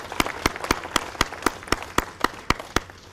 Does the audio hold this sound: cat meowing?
no